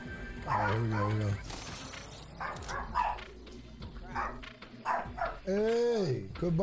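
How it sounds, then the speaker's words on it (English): A dog barks repeatedly and loudly nearby, with short sharp barks and a few whiny yips in an uneven rhythm. "Hey, quit barking."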